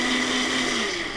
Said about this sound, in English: We throw it in the blender and then we just mix it up to make sure it's a puree.